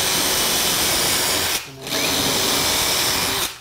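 A power drill driving screws into a closet wall to mount shelves whirs loudly and steadily alone, stopping briefly twice and starting again.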